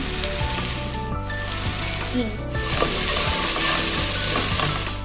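Chopped onions sizzle loudly in a hot pan for cooking rajma, with a constant bright frying hiss and occasional stirring scrapes, close and steady, with no talking.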